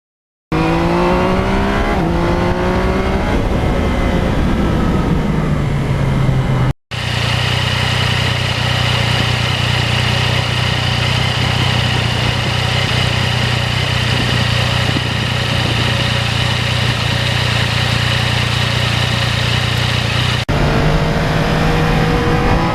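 Car on a salty, icy, wet road with traction control on its most invasive setting, engine note rising through gears then holding a loud steady drone with tire and road noise, alone without talk.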